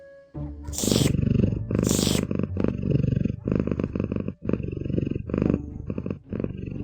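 A deep, rumbling cat purr from a video game rolls on continuously for several seconds, loud and close, with a few brief breaks between long rasping cycles.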